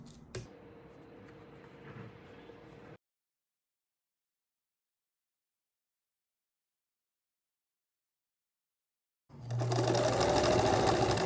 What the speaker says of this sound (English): So now I just want to sew across that piece.